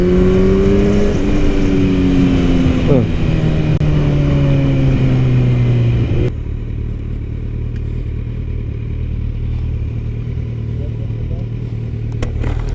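A motorcycle engine drones with a falling pitch as it decelerates, then settles into a steady low idle rumble.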